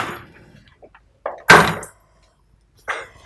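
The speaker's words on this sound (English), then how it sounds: "To open the door." A door opens with a quiet handle sound and then a sharp close thud, surrounded by short rustles and soft knocks with no speech.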